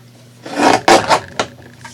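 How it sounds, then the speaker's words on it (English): Loud paper trimmer slicing through paper in a few rough, rasping strokes, close and dry, with a short final cut; no talk. "Sorry about the loud trimmer."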